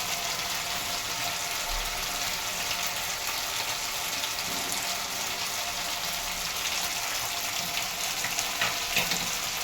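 Masala paste for capsicum paneer fries in oil with a constant, moderately loud hiss and crackle, staying even throughout without any talking.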